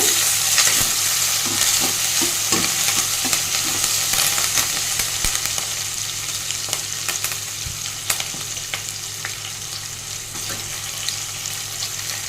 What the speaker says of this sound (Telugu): ఆనియన్స్ దోరగా వేయించుకోవాలి మరీ నల్లగా అయ్యేంతవరకు వరకు ఉండించుకోకూడదు